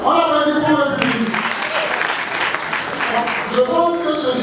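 The studio audience at a televised quiz show final claps in a brief burst between stretches of a host's talk, the applause swelling in the middle and fading as speech resumes.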